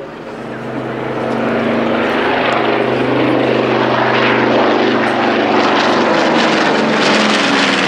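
A North American B-25 Mitchell bomber flies past at the Shoreham Airshow, its twin propeller engines giving a loud, steady droning roar that swells and holds throughout, with faint commentary under it.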